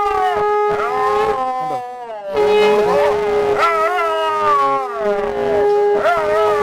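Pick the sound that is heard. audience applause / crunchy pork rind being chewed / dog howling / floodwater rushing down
dog howling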